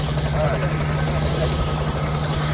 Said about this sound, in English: That was the helicopter we just flew on.